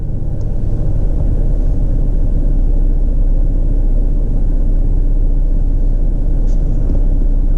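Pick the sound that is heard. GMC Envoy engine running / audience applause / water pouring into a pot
GMC Envoy engine running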